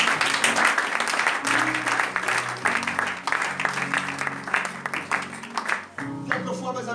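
A church congregation applauds at a French-language worship service, with sustained dense clapping throughout. A voice speaks over the applause and music.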